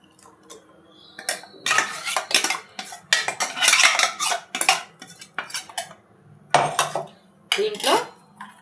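Freshly ground dosa batter is moved from a mixer jar into a bowl, with repeated metallic clinks and scrapes of utensils in irregular bursts separated by brief quiet gaps.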